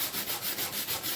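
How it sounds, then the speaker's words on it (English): Hand sanding of the underside of a Seydel harmonica slider gives a quick, even back-and-forth rasp, about a dozen close, soft strokes in steady rhythm. "It's just sanding right side."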